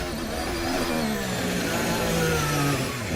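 A Formula 1 car engine heard from the onboard camera revs high and loud, the pitch rising and falling in smooth sweeps as the car accelerates and shifts, continuous throughout.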